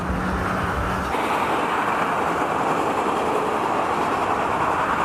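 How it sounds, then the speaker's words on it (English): Commuter trains pass in Chicago near a bridge in traffic, giving a continuous rumbling roar of rail cars rolling by. Steady and fairly loud, with a lower hum from surrounding traffic. "Many commuter trains are going."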